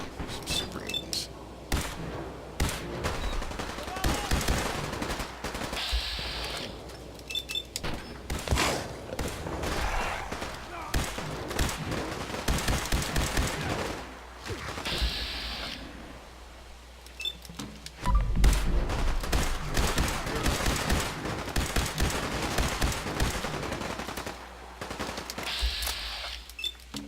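Gunfire in Fallout 4 as a firefight with super mutants breaks out, repeated sharp shots and bursts scattered across the stretch, mixed with game ambience and occasional talk.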